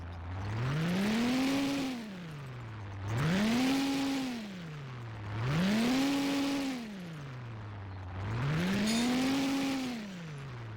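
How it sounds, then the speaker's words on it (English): A synthetic inline-eight engine drone in Garry's Mod, at about 378 RPM, revs up and settles back four times in a slow, regular cycle, each rise and fall lasting a couple of seconds, no talking. "And well, actually you can just hear the engine."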